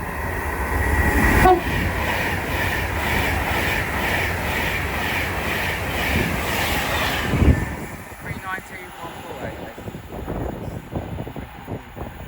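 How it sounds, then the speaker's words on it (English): An Avanti West Coast Class 390 Pendolino passes through Watford Junction bound for Birmingham New Street, a loud sustained rushing roar that cuts off abruptly after several seconds, leaving quieter station ambience. "As also about to pass will be a Advent West Coast 390 Pendolino going to Birmingham New Street."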